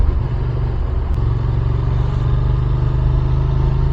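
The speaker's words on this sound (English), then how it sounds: "I love the sound of this bike as well." A 2023 Benelli Leoncino 800 motorcycle engine while riding, a loud, steady low rumble with a constant drone throughout and no voices.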